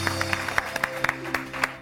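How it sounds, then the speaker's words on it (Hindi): Scattered, distinct claps ring out in a television morning-show studio, a dozen or so separate hits at an uneven pace over a steady background hum, with no voices standing out. "ऐसी बच्चियों के लिए तो डबल तालियां भाई।"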